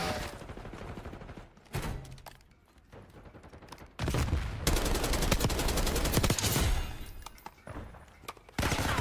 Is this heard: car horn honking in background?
no